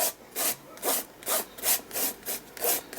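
Paint colour is scraped down across a mixed-media art journal page in about eight even back-and-forth strokes, each a close, rasping swish in a steady rhythm, with no voices.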